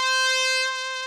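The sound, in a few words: trumpet stab one-shots from Elements of Soul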